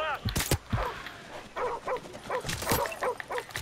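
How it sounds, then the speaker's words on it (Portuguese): Dogs barking and yipping in Call of Duty: Modern Warfare, a run of short repeated barks at close range alongside gunfire bursts, with no talk over them. "E agora vem uns cães."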